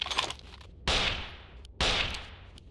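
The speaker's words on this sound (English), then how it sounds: "Okay, so we got a few shots." Two loud shotgun blasts in the Carnivores: Far North tundra hunt, each a sharp crack with a long decaying tail, spaced about a second apart after a faint, busy lead-in.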